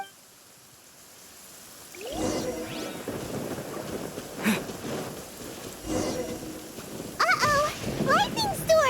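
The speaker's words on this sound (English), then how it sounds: "Uh-oh! Lightning storm!" A thunderstorm in the video game Genshin Impact, with steady rain hissing and low thunder rumbling as the weather builds. Speech is heard over the storm, and sharper bursts come near the end.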